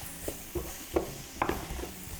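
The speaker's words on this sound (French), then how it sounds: "Mélanger le tout encore." A spoon stirs seasoned, salted food in a pan on a Quebec cooking show, making a few soft, irregular scraping strokes over a faint sizzle, fairly quiet and with no talk.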